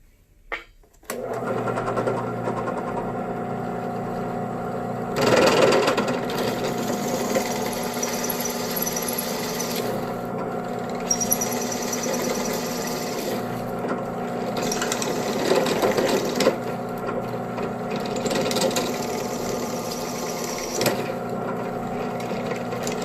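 A drill press bores through KRMx02 Y-beam uprights clamped on a contoured table, giving a steady motor whine with grinding cutting noise throughout, swelling in a few louder bursts as the bit bites.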